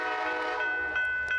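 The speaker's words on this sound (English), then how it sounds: "would you like somebody going through Encinitas or anywhere with a solid horn, full blast, no brakes?" An Amtrak locomotive horn sounds in a steady, loud blast through Encinitas, a multi-tone chord holding for the whole moment with no voices present.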